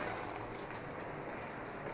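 Simulated heavy rain sprays onto a motorbike multimedia touch screen, a dense, steady hiss of water hitting the surface up close with no pauses.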